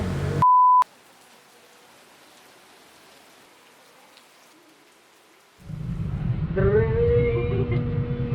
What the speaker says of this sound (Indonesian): Jadi ini kayaknya bukan lewat doang apa hujan beneran?